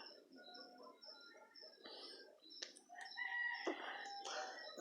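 Birds sing all around in the early morning, with a rooster crowing among them, close and fairly loud, in a dense overlapping chorus that builds toward the end.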